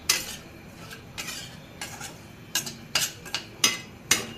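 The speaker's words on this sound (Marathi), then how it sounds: "रवा भाजून घेऊ." Dry semolina (rava) being roasted in a pan for mango sheera, with a spoon scraping and stirring the grains; soft rasping strokes build into sharper, louder scrapes and clinks toward the end, heard alone without talk.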